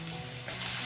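Garlic and green chillies frying in oil in a pan for a greens stir-fry, a brief close sizzle that swells louder near the end.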